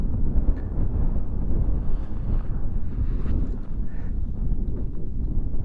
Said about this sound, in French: Et il y a toujours du vent.